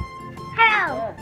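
A cat gives a single clear rising-and-falling meow, close by, against a quiet indoor background.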